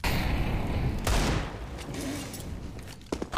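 Rapid bursts of gunfire in Counter-Strike 2, a loud volley opening the moment and sharp shots cracking again near the end, with game ambience filling the gaps.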